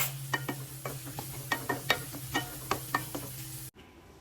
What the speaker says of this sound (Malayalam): അപ്പോൾ അതും ചേർത്ത് നന്നായിട്ടൊന്ന് വഴറ്റി കൊടുക്കാം